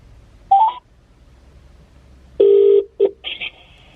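Telephone tones while calling someone: a brief beep, then a held tone followed by short stuttering bursts and a higher warble, loud and close with quiet gaps.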